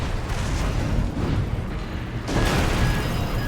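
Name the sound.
explosion in video game Armored Core VI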